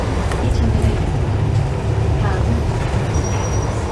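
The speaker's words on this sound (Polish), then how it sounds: "Powiem Wam, że ten autobus to jedzie cały czas prawie pionowo." A city bus in Busan climbs a very steep street, its engine and road rumble a loud continuous drone from inside the cabin, with traffic noise around it.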